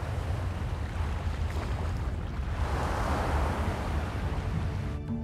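Tsunami waves up to ten metres high, set off by millions of cubic metres of volcanic rock plunging into the sea, roar as a loud, continuous rushing surge of water and wind-like noise.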